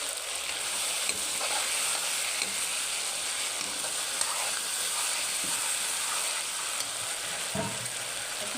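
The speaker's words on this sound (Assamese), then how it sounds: "এতিয়া ভালদৰে লৰাই দিম" Crushed cumin spices sizzle in a hot pan for Assamese chicken gravy, a constant frying hiss broken by occasional scrapes and clinks of a spoon being stirred, close up and without speech.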